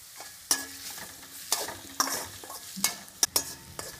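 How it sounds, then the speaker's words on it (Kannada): Onion and curry leaves fry in a pan for puffed rice upma, a steady sizzle broken by several sharp scrapes and knocks of stirring, close and fairly quiet, with no talking. "ಈರುಳ್ಳಿ ಹಾಕಿ, ಈರುಳ್ಳಿನ ಫ್ರೈ ಮಾಡಿ"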